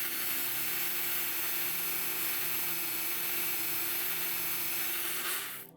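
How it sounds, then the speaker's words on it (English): Steady power-sanding whir on the cutouts of lock pins, a continuous bright hiss at constant loudness close up that cuts off abruptly at the end. "I'm sanding in each one of the cutouts. It's nice and smooth on the inside, not too rough."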